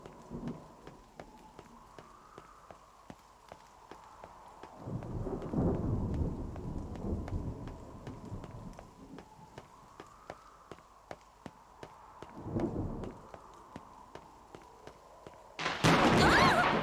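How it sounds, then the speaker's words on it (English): Rumbling thunder in the mobile RPG NieR Reincarnation, with two deep swelling rolls over a soft steady rain, regular faint ticks throughout and a sudden loud burst of noise at the end. "Was that thunder? It was, wasn't it?"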